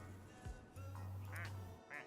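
Two ducks in a video game quack in short nasal bursts, a pair of clear calls around the middle and another near the end, over a steady low hum.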